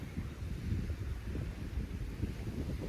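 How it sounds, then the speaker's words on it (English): Steady wind blowing across a beach in Mexico with waves washing in, a continuous broad rushing hiss with low rumbling and no distinct breaks, fairly faint and with no voices. "Hearing the sound of the wind and the flow of the waves."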